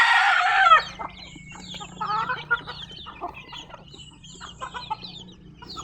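Backyard pet chickens kept alongside ducks give a loud nearby rooster crow that gives way to scattered clucks and soft calls over a low steady background hum.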